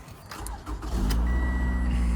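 A used car being readied for a test drive by a car flipper cranks briefly and fires up, settling into a steady, close idle with a low, even rumble.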